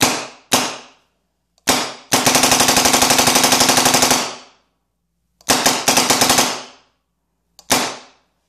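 An EGO paintball marker fires in ramping mode, with a few single shots followed by fast, rapid-fire bursts of sharp pneumatic pops. The shots are loud and close, with clear gaps of silence between the strings.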